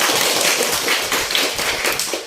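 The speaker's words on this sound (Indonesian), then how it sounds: "Oke, tepuk tangan untuk kita semua dulu." Students in a university teaching-practice class clap together after group presentations, a busy, even rattle of many hands lasting the whole moment without talk.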